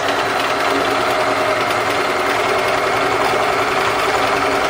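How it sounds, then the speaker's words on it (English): A sewing machine stitching on lace, paper and cloth, running in a continuous fast, even whir with steady mechanical buzzing, loud and close with no talking. "So that's filled in now with machine stitch."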